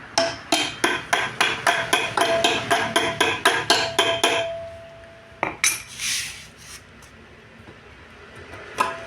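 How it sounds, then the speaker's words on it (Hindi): A hammer taps rapidly and repeatedly on a metal scooter engine chamber, about twenty sharp ringing strikes in a quick even rhythm. A few scattered clanks follow after a pause. "इसको हल्का सा हम हथौड़ा की सहायता से ओपन करेंगे"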